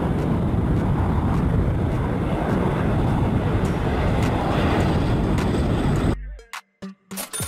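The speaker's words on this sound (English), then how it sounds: "Fire bomber aircraft." A fire bomber aircraft passes with a loud, steady, broadband engine roar that fills the scene and then drops off abruptly near the end.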